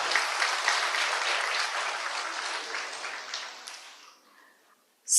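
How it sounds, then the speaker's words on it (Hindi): An audience at a spiritual talk on the Bhagavad Gita at Mount Abu bursts into sustained clapping, dense and steady for about four seconds before fading out, with no talk over it. "सब ताली बजाइए"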